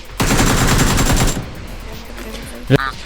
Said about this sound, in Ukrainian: Він по мені стріляє, ніхіра попасти не може.